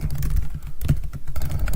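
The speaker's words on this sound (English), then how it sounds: "Apologies, earlier me, for typing all this out." Rapid, irregular typing on a computer keyboard while writing Rust code, a dense run of close clicking keystrokes throughout with no talking.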